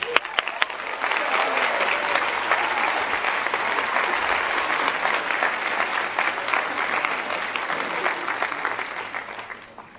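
A large graduation crowd at Harvard's Class Day ceremony claps steadily for a student speaker, a dense, sustained wash of applause lasting about ten seconds before tapering off at the end.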